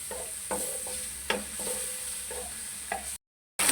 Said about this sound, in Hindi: इसको आपने सिर्फ 2-3 मिनट फ्राई करना, इससे ज़्यादा नहीं।